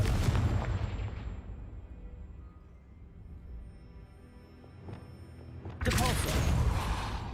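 A Confringo blasting spell in Hogwarts Legacy on PS5 lets out a loud burst that fades into a low rumble, and a second sharp blast follows near the end.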